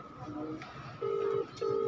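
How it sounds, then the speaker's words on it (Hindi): An outgoing mobile phone call connects, and two steady ringback tones sound in succession over a faint background hum. "देखिए कॉल कर रहा हूँ देखिए उठा ले तो ठीक है फ़ोन लग गया"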